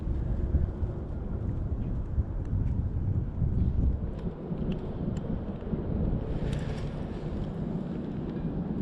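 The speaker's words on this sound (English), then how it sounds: "Got a little wind blowing in now." Wind gusting over open water on a fishing outing, a steady loud rumbling rush from the breeze hitting the microphone, continuous throughout with no voices.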